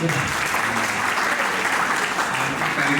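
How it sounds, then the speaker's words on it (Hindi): Steady, energetic applause from an award show crowd, continuous and loud throughout with no pauses. "मेरे प्यारे कलाकार जोरदार ताली बजाओ"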